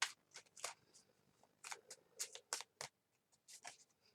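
Small tarot cards being shuffled by hand, a series of crisp riffling bursts separated by short pauses, close and fairly quiet, with no talking.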